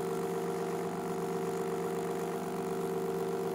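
A DK Power Hub generator runs at about 489 RPM, giving a steady, continuous mechanical hum with an even tonal drone and no pauses, close and moderately loud throughout.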